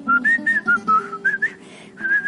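A man whistles a cheerful tune in a string of short melodic phrases, imitating someone happily whistling while washing a Mercedes; the whistling is loud and close, with no talking.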